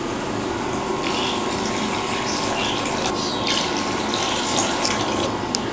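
Two to two and a half cups of water poured into a simmering gravy for a Kerala vegetarian lunch, a steady, close, even splashing rush heard alone.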